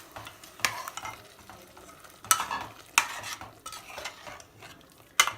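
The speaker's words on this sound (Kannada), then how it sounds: "ಈಗ ನಾನು ಜಾರ್ಗೆ ಹಾಕ್ಕೊಂಡಿದ್ನೆಲ್ಲ ಮಸಾಲೆ ಅದನ್ನು ನೀರಲ್ಲಿ ಸ್ವಲ್ಪ ಮಿಕ್ಸ್ ಮಾಡಿಕೊಂಡು ನಾನು ಹಾಕ್ತಾಯಿದ್ದೀನಿ" Stirring and sizzling as masala paste thinned with water goes into frying chicken in an Andhra-style chicken masala, with sharp spoon-against-pan scrapes at intervals over a steady close crackle.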